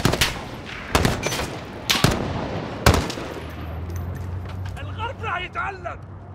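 Gunfire in Call of Duty: Modern Warfare, an embassy mission: several sharp, loud shots at roughly one-second intervals, followed by rumbling engine noise and radio-style voices calling out.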